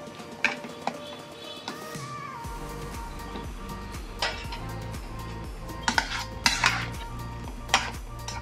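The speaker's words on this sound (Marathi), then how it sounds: "थोडंसं मॅश करून घेऊया, कारण आपल्याला ब्रेडवर लावायचं आहे ते।" Bread pakora filling being mashed in a pan, with repeated metal-on-pan knocks and scrapes in an uneven rhythm over a steady low hum, some sharp clatters standing out near the end.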